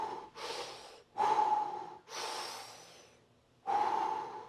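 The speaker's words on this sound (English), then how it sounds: "these cycles of breathing" Deep breathwork cycles of loud, close inhales and exhales with a few sharp gasping intakes, in a slow repeating rhythm and heard alone.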